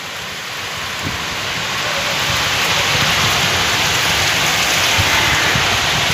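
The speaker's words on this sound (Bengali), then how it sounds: "সেরকম বৃষ্টি হচ্ছে।" Heavy rain pours down in a dense, unbroken hiss that swells slightly louder as it goes, with no voices over it, during a storm with wind and lightning.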